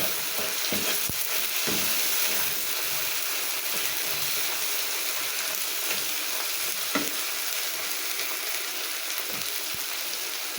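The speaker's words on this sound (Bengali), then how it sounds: "ওই পাশে মশলাগুলোকে একটু নেড়ে চেড়ে দেবো না হলে মশলাগুলো পুড়ে যাবে" Spices and eggs sizzle loudly and steadily in a hot pan while being stirred, with scraping spatula clicks breaking through the constant frying hiss, in a Bengali dish of eggs cooked with bottle gourd.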